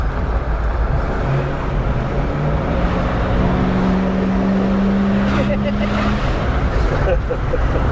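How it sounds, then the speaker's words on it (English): The deep, rumbling exhaust of a 1984 Dodge Ramcharger drones loudly and steadily, with low throbbing tones and people speaking over it now and then. "let me lower your window so you can hear the distinctive exhaust note"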